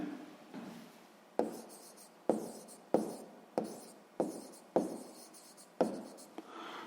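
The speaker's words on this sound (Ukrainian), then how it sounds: "Ну що ж, записуємо тоді відповідь, пишемо відповідь." A pen writes out an answer to a sixth-grade maths exercise in a series of quiet scratching strokes, about nine short bursts with brief pauses between them, close and soft.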